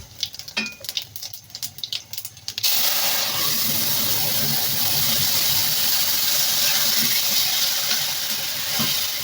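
Grated bottle gourd dropped into hot oil with cumin, first a few scattered clicks and stirring sounds, then a sudden loud, steady hiss of sizzling that holds evenly to the end.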